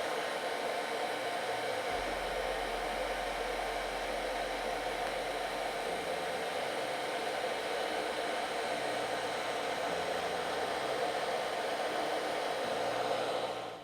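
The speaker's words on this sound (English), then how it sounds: "I usually just keep the heat gun on it and just start to peel it away slowly" A heat gun blows steadily and close by as it warms dirt bike graphics so they can be peeled off. The airflow makes a constant, even rushing hiss with no voices, while a faint low hum comes and goes underneath.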